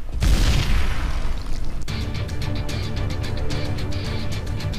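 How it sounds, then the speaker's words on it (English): A grenade explodes in the shooter video game Call of Juarez: The Cartel, starting with a loud booming blast that rumbles and fades, then gives way to a dense run of rapid gunfire crackles. "Grenade."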